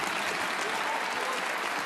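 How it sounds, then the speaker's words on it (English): Steady, dense applause from a snooker crowd at a professional quarter-final, filling the arena evenly and continuing without a break. "And listen to the crowd."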